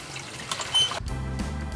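Water is poured into a small container outdoors in Calubian, Leyte, a soft, close trickle and splash lasting under two seconds with no voices.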